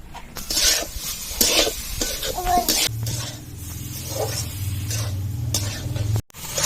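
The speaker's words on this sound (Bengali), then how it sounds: "নারিকেলটা ভালো করে নেড়ে নেড়ে তারপর নাড়ুর মতো পাক আসবে" Grated coconut with sugar, garam masala and bay leaf stirred in a pan, with soft repeated scraping and rasping strokes over a low sizzle and a steady hum.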